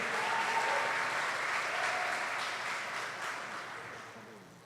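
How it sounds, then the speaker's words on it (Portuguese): Applause fills a church conference hall as a congregation claps for a pastor, a dense wash of many hands that is loud at first and slowly fades as the clip goes on. "Vamos aplaudir ao Senhor pela vida dele."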